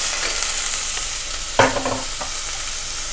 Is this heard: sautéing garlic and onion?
yes